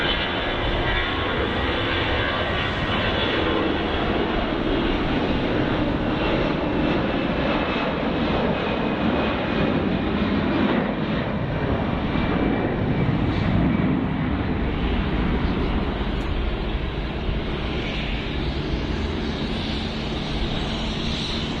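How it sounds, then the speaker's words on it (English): A Saudi airliner roars through its takeoff from Geneva Airport, a loud, sustained jet engine rush that holds steady across the whole stretch with no voices. "I've got the Saudi departing."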